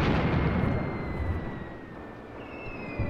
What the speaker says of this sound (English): those mortars are landing far behind the men